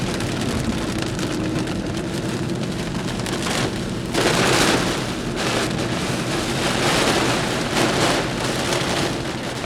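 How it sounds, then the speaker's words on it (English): A wall of heavy rain pours down during a tornado outbreak, a dense, loud hiss drumming on surfaces that surges in heavier bursts, with no voices. "Yeah, it's a wall of rain."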